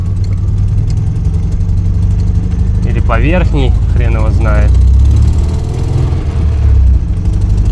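A rebuilt car engine runs with a coarse, tractor-like rumble, steady and loud throughout, while someone talks over it partway through.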